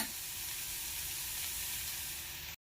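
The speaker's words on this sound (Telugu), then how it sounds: "ఇలా కొద్దిసేపు వేయించుకుంటే సరిపోతుంది" Green beans with coconut frying in a pan for a simple South Indian stir-fry, a steady close sizzle that runs evenly and then cuts off abruptly.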